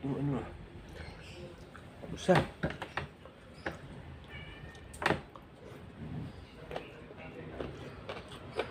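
A cat meows a few times close by, amid clattering and knocks, with people talking intermittently.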